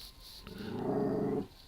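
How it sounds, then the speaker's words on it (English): A dog growls low and steadily for about a second indoors, close but fairly quiet, against a faint background hum. "My dog's barking."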